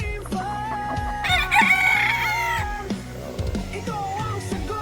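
Roosters crow loudly and hens cluck nearby, overlapping calls in a busy farmyard with some voices in the background, during preparations for a fiesta.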